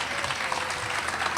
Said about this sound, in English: I want to give a round of applause to our staff